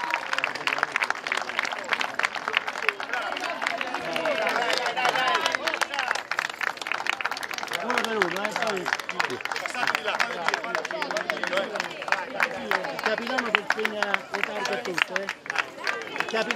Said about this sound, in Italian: Un applauso all'oratorio Villanova.